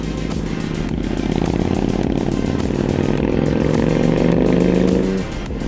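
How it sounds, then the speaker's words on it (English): A loud engine runs close by with a steady, heavy drone and a rising whining tone that builds over several seconds before easing off, with no voices. "Red, why don't you make your bike sound like that?"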